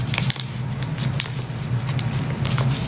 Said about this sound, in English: Then you fold in half again